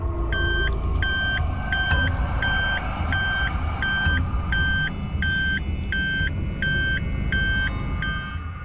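A vehicle backs up while a regular reversing alarm beeps about a dozen times at an even pace, heard over a low rumbling engine and road noise.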